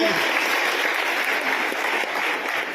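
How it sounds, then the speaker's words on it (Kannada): Loud, steady applause from an audience at a girls' residential school annual day, honouring a young girl's world-record achievement; dense clapping fills the whole stretch without pause. "ಜೋರಾದ ಚಪ್ಪಾಳೆ ಬರಬೇಕು ಈ ಮಗುವಿನ ಸಾಧನೆಗೆ"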